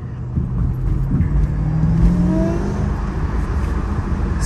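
A car engine runs steadily close by, the revs rising and falling with a low rumble and a faint whine sweeping upward.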